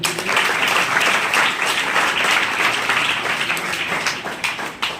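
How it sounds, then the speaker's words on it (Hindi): Audience applause at a school event honouring toppers, a loud, close burst of many hands clapping that holds steady for several seconds before tapering unevenly at the end. "एक बार और जोरदार तालियां।"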